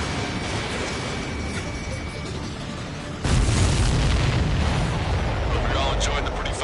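Ace Combat 7 game explosions boom one after another in a dense, roaring rumble, with a sudden heavier blast halfway through that lifts the whole din louder.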